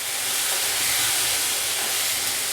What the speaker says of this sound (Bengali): মশলাগুলো পেঁয়াজগুলো মোটামুটি ভাজা হয়ে গেছে